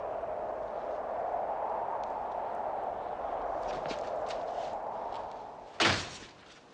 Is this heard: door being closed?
yes